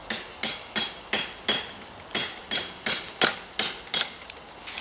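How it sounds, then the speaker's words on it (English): A hammer strikes a metal punch to drive an old staple out of a wooden fence stake: about twelve sharp, loud, close metallic taps at a fairly even pace, each ringing briefly. "And for that I'm using basically a punch. You can see there the punch and a hammer."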